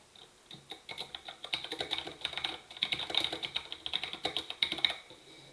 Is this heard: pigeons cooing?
no